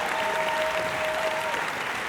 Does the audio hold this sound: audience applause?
yes